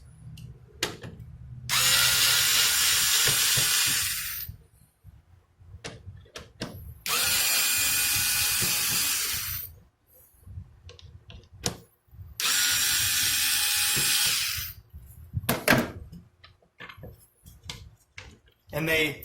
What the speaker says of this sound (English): Get all these 3 screws out here, okay?